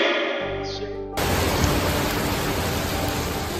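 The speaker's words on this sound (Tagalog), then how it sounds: "Bumuhos ang malakas na ulan at ilang bahagi ng Maynila ay lubog sa baha." Heavy rain pours down in Manila, a dense, steady roar of downpour that cuts in abruptly after a short low tone and then continues loud and unbroken.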